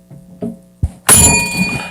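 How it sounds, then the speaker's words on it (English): A bell rings at a boxing match, marking the round: a loud bright clang that rings on and slowly fades after a few softer thuds. "All right, we got the bells."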